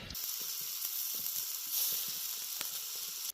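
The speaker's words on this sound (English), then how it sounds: "Throw a couple of the old sausages on the fire." Andouille sausages sizzle and crackle over a desert campfire, a steady close hiss with small irregular pops and snaps throughout, no voices.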